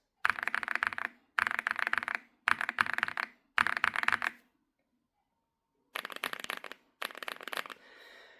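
Rapid typing on a mechanical keyboard with stock Vertex V1 switches, in close, clacky bursts of keystrokes, four runs, a pause, then two more runs.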